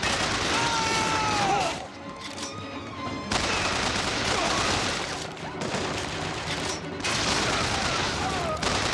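Gunfire in the video game BioShock Infinite: dense, sustained bursts of shots over a busy game soundscape, with a brief lull partway through before the firing resumes.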